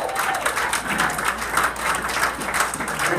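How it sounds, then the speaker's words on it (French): Church audience applauding and cheering in praise of Jesus during a visit by Apostle Jean Claude Mosengo in the USA, steady dense clapping and crowd noise throughout. "Est-ce que quelqu'un peut donner une acclamation à Jésus?"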